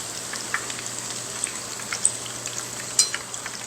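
Hot oil sizzles and crackles steadily as scored eggplant deep-fries, with occasional louder pops.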